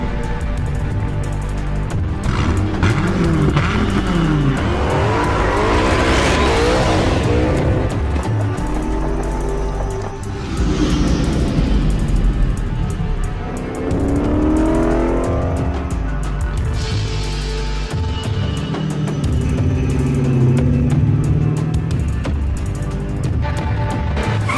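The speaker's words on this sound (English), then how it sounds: "Dodge Viper, created like no other car in the world." A Dodge Viper engine roars loud and close, rising and falling through repeated revving sweeps with some tire squeal, over background music.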